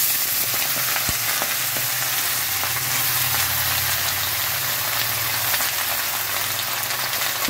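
Malabar spinach stems dropped into hot oil with fried garlic, giving a loud, steady, dense sizzle that fills the whole clip alone, without talk.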